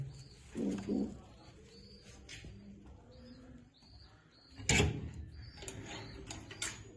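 Soft cooing of domestic pigeon pairs with newly hatched chicks comes and goes among scattered chirps and ticking clicks, fairly quiet, with a sharper burst of fluttering midway.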